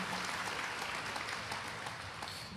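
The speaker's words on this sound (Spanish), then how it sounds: "Démosle un fuerte aplauso al Señor." Church congregation applauding loudly and steadily throughout at a Tabernacle worship service, a dense, even wash of clapping with no break.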